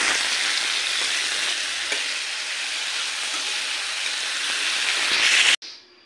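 Potatoes and carrots frying in a pan for chowmein make a steady, close sizzle with faint stirring, running evenly before stopping suddenly near the end.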